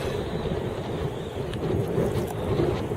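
Heavy wind buffeting the microphone while fishing from a kayak on open water, a constant loud low rumble with faint water lapping beneath.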